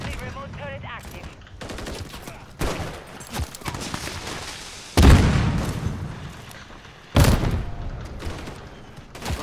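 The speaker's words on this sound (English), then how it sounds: "Friendly remote turret active." Remote turret firing in a video game, bursts of rapid automatic gunfire with heavy booming impacts in several loud waves, a voice occasionally over the top.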